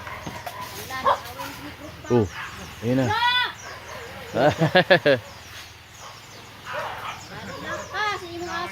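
Dogs fighting bark in sharp clusters, several quick yaps in a row, amid a noisy outdoor scene with people talking.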